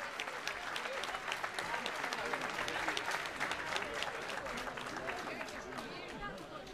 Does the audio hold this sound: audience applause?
yes